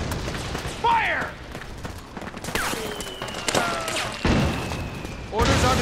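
Gunfire in a Metal Gear Solid 4 firefight: repeated bursts and heavy booms, close and loud, with shouted voices over the shooting.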